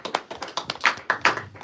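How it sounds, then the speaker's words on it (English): Scattered hand claps from a congregation at the close of a Torah portion teaching, about a dozen uneven claps in a loose rhythm, nearby and moderately loud. "Give the Most High a round of applause."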